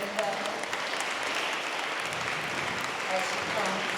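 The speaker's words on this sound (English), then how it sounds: "Let's give her a hand clap" Audience applause at an award presentation for a Black Business Hall of Fame event in Tampa Bay, a steady wash of many hands clapping throughout with faint voices underneath.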